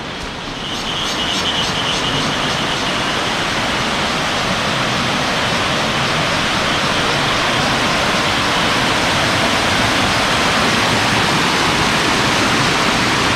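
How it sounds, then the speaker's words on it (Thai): A waterfall in Mae Kampong village near Chiang Mai roars as a loud, steady wash of rushing water. It is close and unbroken for over ten seconds, with no voices. "เสียงน้ำตกจะดังหน่อยนะครับ"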